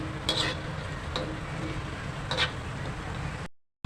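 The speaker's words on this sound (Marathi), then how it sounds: "चांगले फ्राय करूया अजून लालूस होऊ दे" Farali fasting nuggets frying in oil in a pan, a steady low sizzle with a few sharp clinks of a utensil stirring against the pan, then a brief cut to silence near the end.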